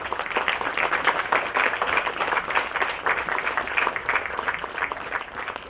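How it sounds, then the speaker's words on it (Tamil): An audience at a film audio launch event applauds loudly and continuously, a dense even roar of clapping with no break. "எல்லாரும் ஒரு பெரிய கரகோஷம் கொடுத்துடலாமா"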